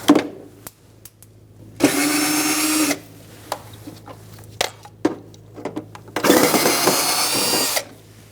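A power drill whirs in two bursts of about a second each, removing Phillips screws from the inner fender liner of a 2012-2017 Hyundai Accent, with clicks and handling noises between runs.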